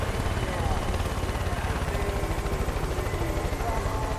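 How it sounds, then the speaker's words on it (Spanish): Helicopter in the video game Far Cry 5 thrums in a steady, loud, rapid rotor pulse that dominates a short stretch of gameplay audio. "Vale, ahí anda el helicóptero"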